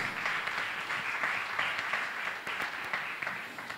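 Churchgoers at a Sunday service clap for Jesus, a sustained round of many hands at moderate level with faint rhythmic accents, fading slightly toward the end.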